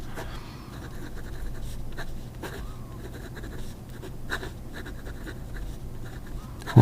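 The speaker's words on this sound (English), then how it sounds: "Gel refill, and it should be writing a lot nicer than this." A gel pen writes on paper close up, with quiet scratchy strokes coming in short repeated bursts and brief pauses between them.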